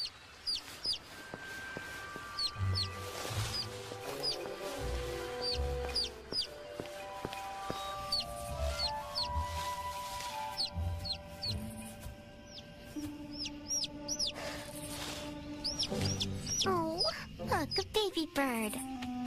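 Chirpy bird calls and hen-like clucking repeat over a busy background of music and scattered voices, with bright squeaks rising near the end.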